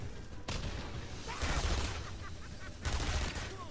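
Enemy gunfire in the Batman: Arkham Asylum video game, a dense crackle of rapid shots that runs steadily through the whole stretch and swells in two louder bursts, with a voice barely present underneath.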